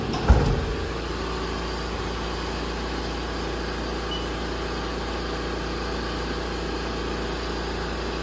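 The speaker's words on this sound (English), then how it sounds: "Still running the spindle warm up." A Haas VF-2SS CNC mill with a rotary table runs its spindle warm-up cycle, giving a steady, unbroken mechanical hum close by after a brief knock at the start.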